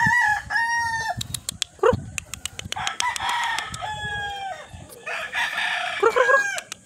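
White leg sweater rooster crowing several times in close succession, loud and near, with clucking in between and scattered sharp knocks.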